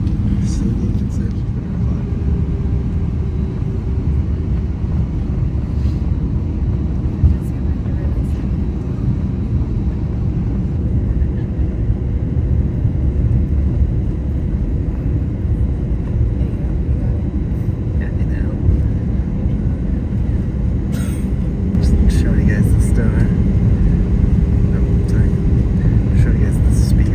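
Delta airliner departing Las Vegas, a loud broadband cabin roar of jet engines building steadily through the takeoff roll, with people talking faintly over it.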